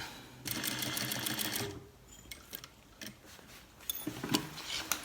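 A sewing machine stitches a cargo pants waistband in short close bursts, with a quick whirring run first and then a few brief stitching spurts separated by pauses.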